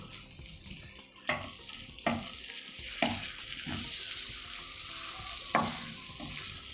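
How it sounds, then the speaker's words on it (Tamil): Whole spices sizzle and crackle in hot oil in a pan over low heat: cumin, star anise, cardamom, cloves, cinnamon and bay leaf, with a faint continuous hiss and several sharp pops and taps from utensils or the pan. "அடுப்பை சின்னதாக வச்சுட்டு இது எல்லாத்தையும் நல்லா பொரிச்சுடுங்க."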